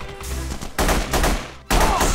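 Rapid turret gunfire in The Punisher video game, two loud close bursts of rattling shots broken by short gaps.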